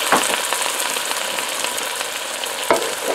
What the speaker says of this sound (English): It's going to take a little bit longer to sizzle them.